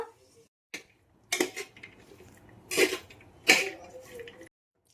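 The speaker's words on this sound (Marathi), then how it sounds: "मी आता ह्याच्यामध्ये कडधान्य टाकत आहे मी ह्याच्यामध्ये घेतलेला आहे मूग मटकी हिरवा वटाणा" Mixed dried pulses (mung, matki and green peas) poured into a pan of spices in three distinct rattling bursts, each a short clattering rush of grains against metal, close and fairly loud, with quiet gaps between.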